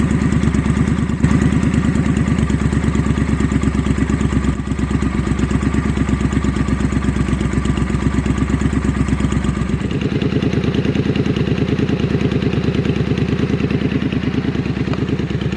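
A Triumph Scrambler fitted with a Hitchcox exhaust idles loudly and steadily close by, a throbbing, even low-pitched burble with a slight drop in pitch partway through.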